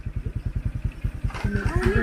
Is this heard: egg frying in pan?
no